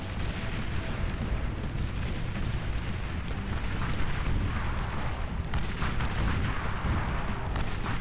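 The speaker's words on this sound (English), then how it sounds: "The second one is a nuclear missile landing." A nuclear missile lands in the strategy game Beyond All Reason, producing a sustained, dense rumbling roar of explosions and crackling blasts that rolls on without pause.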